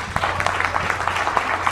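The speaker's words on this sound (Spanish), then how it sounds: "pido también un aplauso muy fuerte pues a su diamante" A crowd at an Amway leadership event claps for newly honored diamond members, a short burst of brisk, overlapping handclaps with distinct sharp slaps standing out near and loud.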